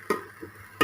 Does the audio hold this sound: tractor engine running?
no